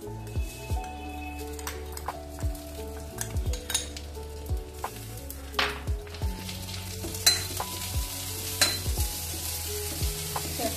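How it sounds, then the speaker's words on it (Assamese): Vermicelli frying in cow ghee crackles with a soft continuous sizzle, punctuated by repeated scraping and tapping as a spoon stirs the pan, over a low musical background with no voices. "ৰঙাতে ভাজি ল'ব লাগিব"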